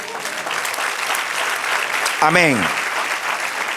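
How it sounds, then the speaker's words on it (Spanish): Spanish-speaking church congregation applauding the Lord during a sermon, a loud, dense burst of clapping that fills the room while a voice speaks briefly over it. "Dale un aplauso al Señor."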